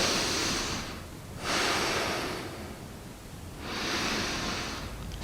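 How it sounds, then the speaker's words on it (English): Deep recovery breaths drawn in and out through the ribs and belly during a TRX cardio circuit for mountain biking, two long airy exhales or inhales alternating with quieter pauses, close to the microphone. "that breathing in and out through the side there, as well as into the belly, is what's going to drive a good recovery breath"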